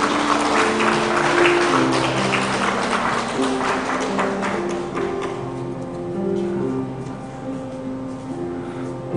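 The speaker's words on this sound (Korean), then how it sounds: "앞으로 나오실 때 박수로" Church congregation applauds at a Sunday worship service as a three-generation family comes forward, a broad wash of clapping that is loud at first and then thins and fades over several seconds, with a low hum underneath.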